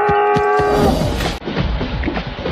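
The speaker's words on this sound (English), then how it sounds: "battery operated cow." A battery-operated black-and-white toy cow gives a loud electronic moo, a steady buzzy tone lasting about a second, followed by a rattling mechanical whir close by.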